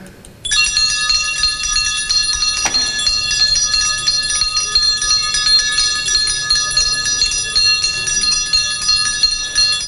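A school bell starts ringing after a brief pause and keeps going continuously, a bright, sustained metallic ring with a clear clanging tone, loud and close, marking the start of the school year in Chernihiv.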